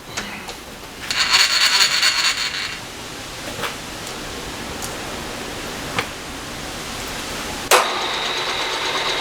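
A milling machine runs a really old 1/2 inch, two-flute, high-speed steel end mill at about 660 RPM. It gives a steady broadband whirring hum with an early loud hissing stretch, a few faint ticks and a sharp knock near the end.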